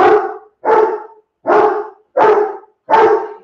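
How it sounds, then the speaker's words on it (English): A dog barks five times in a steady, evenly spaced series, loud and close inside a home as someone arrives at the door, with no other sounds between the barks. "that's my dog."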